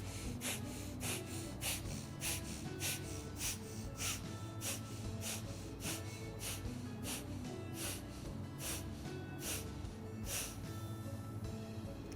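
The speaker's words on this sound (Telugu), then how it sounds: "ఈ విధంగా శ్వాసను తీసుకోవాలి," Rapid bhastrika pranayama breaths taken while holding a yoga danda sound as quick, sharp nasal puffs, around twenty in a row at a brisk, fairly regular pace, close up and fairly soft.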